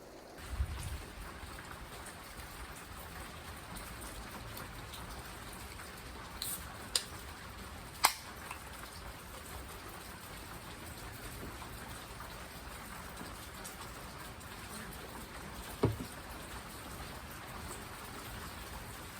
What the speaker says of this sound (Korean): 비 오는데 빗소리 너무 좋지.